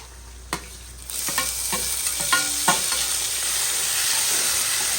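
Onions and tomatoes sautéing in a pan for Tamil-style fish curry, a steady close sizzle with several sharp spoon scrapes and clinks against the pan near the start, then continuous frying hiss alone.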